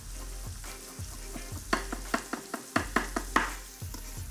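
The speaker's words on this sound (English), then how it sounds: "Just want to stir." A spoon stirs sriracha with sliced garlic in a frying pan over a steady low sizzle, with a run of sharp clinks against the pan in quick rhythm through the middle, close and clear.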